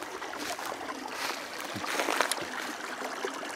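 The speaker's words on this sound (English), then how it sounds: "And here we are, if you can listen, to the stream." A small stream on rural land flows through low-growing brush with a soft, steady rush and faint trickle, quiet and continuous with no voices.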